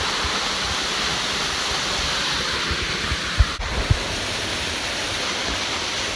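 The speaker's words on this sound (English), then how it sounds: "I'm at the other waterfall." A waterfall in Puerto Rico roars in a steady, dense broadband rush that fills the whole clip. A couple of faint low thumps sound partway through.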